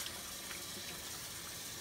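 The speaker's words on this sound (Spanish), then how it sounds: "aquí ya tengo los chiles, solamente los voy a lavar" Tap water runs steadily over chiles being rinsed for Christmas tamales, a continuous soft hiss of faucet flow and splashing at the sink, quiet and without voices.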